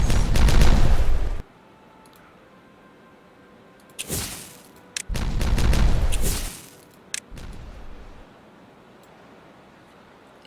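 Explosive detonations in the game Timberborn: a loud, sustained rumbling blast opens, followed after a pause by a second long roaring burst and a shorter third, with scattered crackling between.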